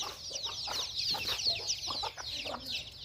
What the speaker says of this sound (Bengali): আমার মুরগির বাচ্চাগুলো আমার উঠান দিয়ে ঘুরে থাকে